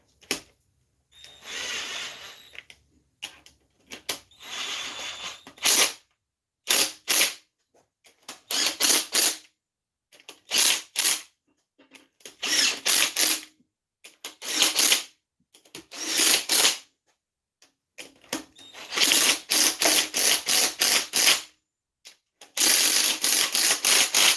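An impact wrench running down parts during reassembly of a Red Ram, sounding as a long series of short, loud rattling bursts broken by silent gaps, close and dry, with a longer sustained run near the end.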